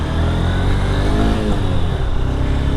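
A Honda NX190 motorcycle engine hums steadily and close by, its pitch shifting slightly as the bike eases off and pulls away.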